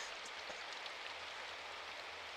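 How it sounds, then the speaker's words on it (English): Steady, dense video game rain hiss with patters of drops hitting a surface, even and continuous throughout, no voices. "sound effects of rain"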